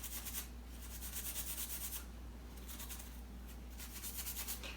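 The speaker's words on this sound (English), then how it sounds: "I just want to hit it with a Scotch-Brite and see" A Scotch-Brite pad scrubs a rusty moped flywheel in rhythmic back-and-forth strokes, a quiet, close rasping that comes in repeated bursts over a low steady hum.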